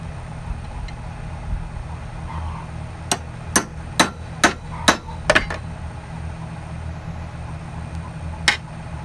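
On an old lawn mower deck, a hammer drives an extractor onto a stuck bolt, giving about seven sharp metallic strikes in quick succession, then a pause and one more blow, over a low background rumble.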